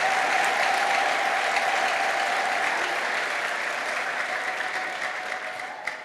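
Sustained applause from a church congregation during a sermon, a steady dense wash of many hands at moderate distance that fades slightly near the end, with one sharper clap standing out.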